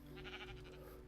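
A sheep in a farming game lets out one wavering bleat lasting about a second over a constant low background drone.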